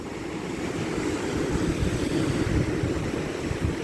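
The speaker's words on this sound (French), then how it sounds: "Avec de belles vagues." Ocean waves breaking on volcanic rock beside natural seawater pools on an Azores island coast, a steady low roar of surf with wind noise, continuous and fairly loud, no voices.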